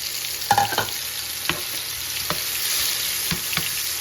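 Shrimp frying in a pan, a steady close sizzle broken by a few sharp clinks and scrapes at irregular intervals, no talking.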